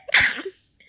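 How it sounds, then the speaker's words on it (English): A single sharp, close sneeze bursts out loudly, followed by a brief trailing breath and then quiet. "That was a real sneeze."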